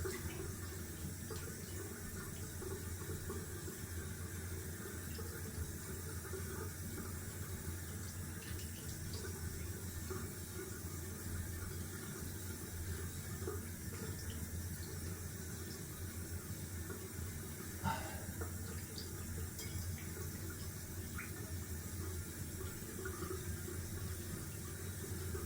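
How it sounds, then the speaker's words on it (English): Tap water running steadily into a sink for a cold rinse after wet shaving, a faint, even hiss and splash continuing without pause, heard alone and at a distance. "going down for a cold water rinse"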